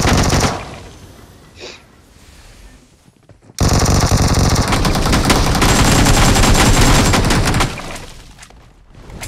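Rapid automatic gunfire from a battle royale video game in the Icemire Frontier mode, a quieter stretch giving way to a loud, sustained burst of overlapping shots that fades near the end.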